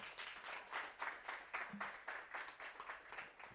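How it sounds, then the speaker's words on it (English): Audience applause after a keynote on African venture capital, steady clapping from a crowd throughout, moderately distant with a brief spoken interjection partway. "Please, one more round of applause."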